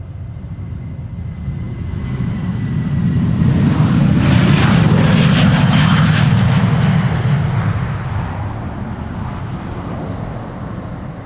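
A Boeing 737 airliner at Schiphol Airport rumbles past with deep, broad engine roar that swells to a loud nearby peak around the middle and then eases off, heard alone without talk.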